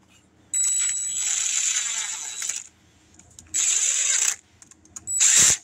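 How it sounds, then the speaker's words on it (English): An impact driver whirs in three bursts while tightening, two long runs and a short final one, with high-pitched motor whine and quiet pauses between. "with the drill right here and the impact right quick."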